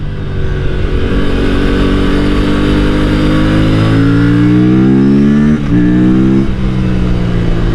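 A Kawasaki Ninja 500 SE or Aprilia RS457 sport motorcycle engine drones loud and close, revving steadily upward through the gears, with a brief dip at a shift before climbing again.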